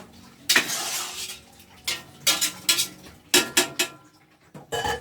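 Two kilos of glutinous rice are poured into a large cooking pot of already-cooked arroz valenciana ingredients, heard as several separate bursts of rushing, rattling grain with scraping sounds in between. No one speaks.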